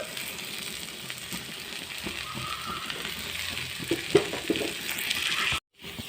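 Grated coconut fries in a pan for a mixed chutney, a soft steady sizzle with scraping stirs and a few light clinks, cutting off briefly near the end.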